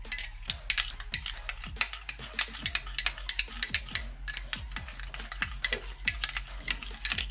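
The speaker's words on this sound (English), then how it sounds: "Next, I'm just gonna stir it together." A homemade skin oil mixture stirred in a small container, with a steady run of quick, light clinks and scrapes from the utensil, close by and fairly quiet.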